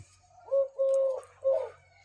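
Pet pigeons, covered with cloth against extreme cold and falling snow, give three soft, close coos in quick succession, the middle one longest, over a quiet low hum.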